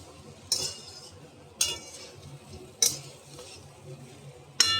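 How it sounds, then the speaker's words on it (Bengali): Chira poha (flattened rice) with fried peanuts and a sprinkle of lemon juice being stirred in a pan over light frying heat: four sharp metallic clinks of the spatula against the pan, roughly a second apart, over soft scraping and faint sizzle. "এখানে লেবু রসটা ছড়িয়ে দিলাম নেড়ে চেড়ে নেবো ওইটা আর একটু লাইট ফ্রাই হবে"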